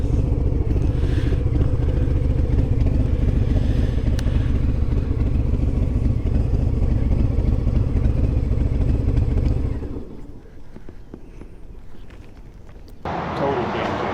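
A motorcycle engine runs loud and steady for about ten seconds, then drops off into a quieter stretch before rising again near the end, with a rider talking over it.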